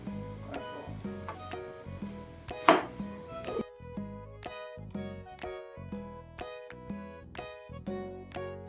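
Knife chopping onions and tomatoes on a board in a home kitchen: steady, close, crisp rhythmic chops after a brief clatter, alone without talk.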